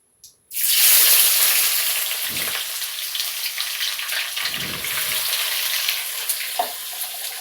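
Bay leaf, green chilli and onion hit hot oil in a kadhai with a sudden loud sizzle that settles into a steady, dense frying hiss, with a few faint clinks along the way.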